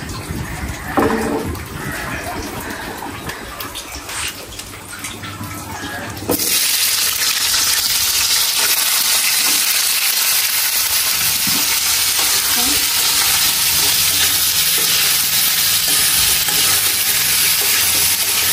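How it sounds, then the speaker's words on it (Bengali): Onions are sautéed lightly in a pan, and after a few seconds of stirring and clatter a loud, steady frying sizzle takes over and continues to the end. "আমি একটু সতে করে নেব, জাস্ট একটা হালকা ফ্রাই করে নেব"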